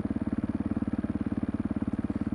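A motorcycle engine chugs in an even, rapid pulse while riding slowly in first gear, close and steady with no talk.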